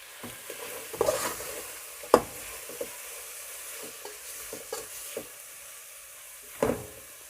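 Tomatoes and salt being stirred in a pot while cooking for beef pilau, a low sizzle under scattered spoon knocks and scrapes, with a few sharper clacks against the pot, no talking.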